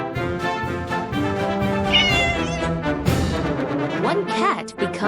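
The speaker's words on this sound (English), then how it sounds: "Look, here comes a cat." A cat meows a few times in a children's grammar lesson about plural nouns, its short rising-and-falling cries rising over steady background music.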